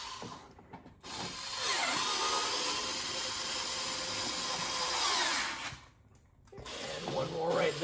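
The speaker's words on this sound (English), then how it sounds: "You're going to be putting your 3 7mm screws here to the bottom." Up close, a power drill drives 7mm screws into the bottom of a Corvette C8 sequential LED light bar bezel, whirring steadily for several seconds, pausing, then starting again, with brief handling noise around it.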